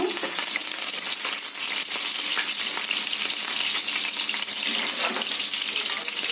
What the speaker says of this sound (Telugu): కరివేపాకు వేసుకొని కలుపుకుందాము